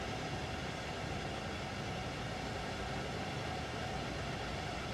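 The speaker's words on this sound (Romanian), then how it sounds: "ia uite, alt marfar. Nice, ia uite câte vagoane are" A long freight train with many wagons passes by, producing a dense, continuous roar and rumble that stays loud and steady throughout, with no talk.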